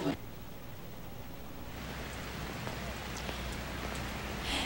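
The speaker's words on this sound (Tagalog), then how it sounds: "nagsisimula na namang bumagsak o bumuhos ang ulan dito sa Quezon City." Steady rain pours down in Quezon City during a storm, a continuous hiss of heavy drops on surfaces that stays even and fairly loud throughout.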